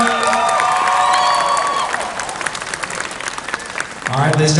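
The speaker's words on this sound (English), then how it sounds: "Give another round of applause for Avery" Convention crowd applauding and cheering a youth cosplay contest third-place winner, loud clapping with whoops and shouts, dipping briefly before swelling again as voices cut in at the end.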